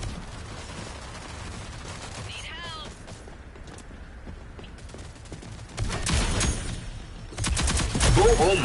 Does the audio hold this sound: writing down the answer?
no